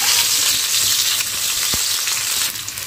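Chopped tomato sizzles and fries in hot oil in a pan for a bitter gourd dish, with a steady loud crackle and faint stirring scrapes.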